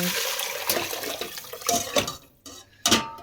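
Homemade chicken broth made from leftover roast chicken is tipped from one pan back into another, a close liquid pour with sloshing and clinks of metal pans, broken by brief pauses and then a final splash.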